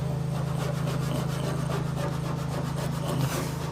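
Steady, close rubbing of vinyl gator-grain roof covering on a Fury Sport GT, a continuous dry friction sound with a constant low hum underneath and no talking.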